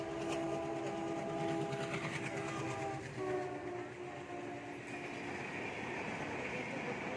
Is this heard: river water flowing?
no